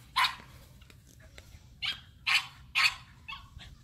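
Puppy barking and whimpering during show training, several sharp high yips and short barks in close succession, near and loud, with soft whines between them.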